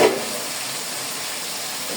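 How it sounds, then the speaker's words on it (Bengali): Hilsa fish cooks down in a hot pan with a steady, even hiss of frying oil that runs unbroken throughout, with a brief louder clatter at the very start. "এই তো আমার মাছটা কষানো হয়ে গিয়েছে আর একটু কষা হবে মাছটাকে"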